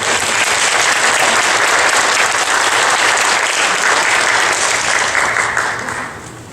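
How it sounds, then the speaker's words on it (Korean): Loud, dense applause from a church congregation welcoming a Baptist pastor to the pulpit, continuous for several seconds before tapering off at the end. "나오실 때 크게 박수로 환영했습니다"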